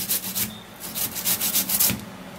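Something is being rubbed rhythmically over a hand grater, producing repeated close, raspy scraping strokes about three or four per second that run steadily on their own with no talking.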